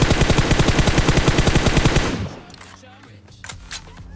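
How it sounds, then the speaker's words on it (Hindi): M4 rifle fire in the mobile battle royale game BGMI: a loud, rapid automatic burst of evenly spaced shots for about two seconds, then quieter scattered game sounds and a few distant pops. "इस वाले बंदे को भी M4 से खत्म करा"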